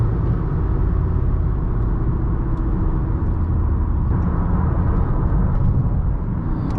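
2020 Honda Accord EX-L with the 2.0-litre turbo engine accelerating on the highway, a steady low engine drone and road rumble heard from inside the cabin, constant and fairly loud with no talking.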